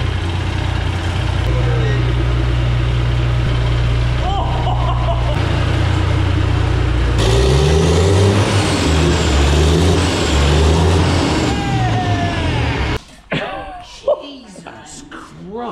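Volvo car with new wheels driven slowly into a workshop over an inspection pit: a loud, continuous engine drone with low rumble and shifting pitch as it creeps forward, ending abruptly with people talking nearby.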